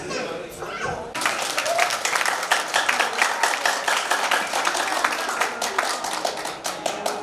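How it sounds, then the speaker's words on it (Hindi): An audience at a Louis Braille birth anniversary ceremony breaks into applause after a brief murmur, and many hands keep up a loud, dense clapping that holds steady for several seconds. "तालियां कम नहीं होनी चाहिए"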